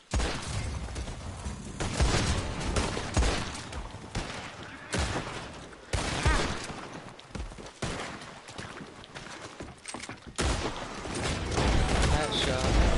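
Gunfire in the video game Red Dead Online: loud bursts of shots and rapid volleys come close in irregular clusters across the stretch, mixed with game noise and hoofbeats, while people talk over it.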